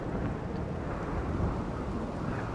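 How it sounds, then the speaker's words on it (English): Steady rain with low rumbling thunder during a thunderstorm in the RimWorld video game, a continuous broadband wash holding an even level throughout. "We do have a thunderstorm"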